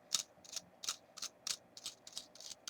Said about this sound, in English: Just unscrew that.